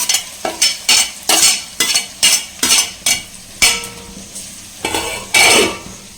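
Onions and green chillies fry in a pan while a spoon stirs them in quick rhythmic scrapes, with about a dozen close bursts of sizzle and metal contact separated by brief pauses.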